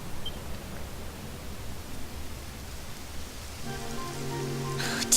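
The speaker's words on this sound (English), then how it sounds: "It would have to go and start raining, wouldn't it?" Soft, steady rain in Dragon Quest XI, a faint even patter and wash, joined near the end by a low sustained musical tone and a brief brighter swell.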